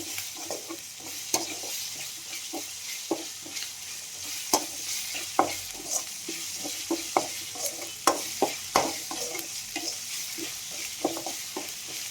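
Ginger garlic paste fries in a pan for a chicken curry, giving a steady close sizzle broken by frequent spoon scrapes and taps as it is stirred, with no voices.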